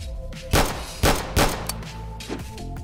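Three heavy gunshots from a big gun in a short film, loud booming blasts about half a second apart, followed by fainter thuds over a low background hum.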